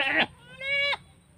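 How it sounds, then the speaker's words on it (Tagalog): Goats on a ranch give two bleats, a short one and then a longer, wavering call, close by and fairly loud, with quiet outdoor air between them. "Sumunod sa atin mga kambing."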